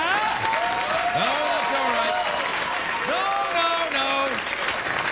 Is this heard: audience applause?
yes